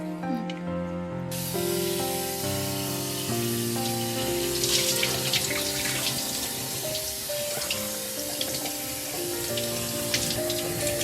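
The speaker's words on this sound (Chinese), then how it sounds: "我再用清水洗一遍就好了。" Seafood such as abalone, oysters and clams rinsed under a running kitchen tap, a steady splashing water flow that runs alone and close throughout, with no talking.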